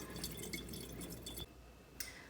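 Cool tap water runs and splashes over freshly cooked pasta shells in a kitchen, a steady close rinse with drips that cuts off briefly and resumes.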